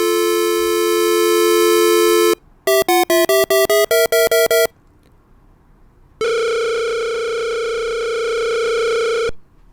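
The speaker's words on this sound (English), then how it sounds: "There we go. That's a ring." Telephone ringing tone inside a telephone network simulation game: a steady electronic tone, then a rapid burst of short dial pulses, then a long loud ring tone, all synthetic and clear with no talking.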